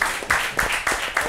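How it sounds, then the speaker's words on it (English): A small group claps in a steady, evenly spaced rhythm, about five sharp, loud claps in just over a second. "Clap it up."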